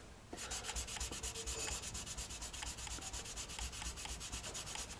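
Hand filing of dried lacquer coat, a steady rhythmic rasping stroke repeated close up for the whole span, loud and continuous with no talk.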